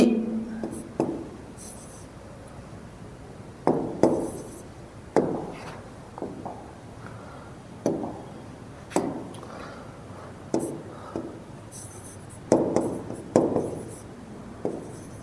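Chalk tapping and scraping on a classroom board in short bursts of writing strokes, separated by pauses, fairly close and clear, with faint background murmur.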